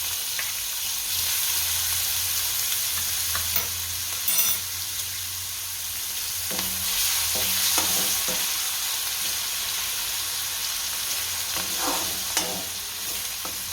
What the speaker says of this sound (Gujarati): આદુ મરચાં અને લસણ એ નાખીશું